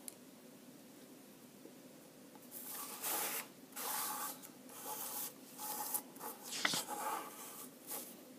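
A pencil compass sweeps around on paper in soft, quiet scratching strokes, a run of rubbing passes each lasting under a second with short gaps between them, faint and close with no talking.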